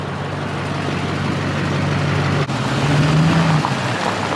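A Duramax diesel pickup truck idles nearby, a steady low rumbling drone with a faint whine, loud and continuous with no talk over it.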